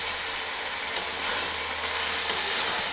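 Spices (cumin, coriander and Kashmiri chili powder) frying and being stirred in a pan, a steady close sizzle with faint scraping, no voices.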